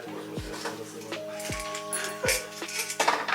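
Close, sharp clinks of a ceramic cup being set down and handled while making instant coffee, a few separate knocks with light rustling between them.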